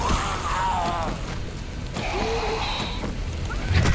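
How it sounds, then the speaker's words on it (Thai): Steady rain falls in the survival game 7 Days To Die, a broad continuous hiss holding at an even level for the whole stretch, with faint game sounds and a brief voice-like tone layered over it. "ลงตอนนี้ฝนตกด้วย"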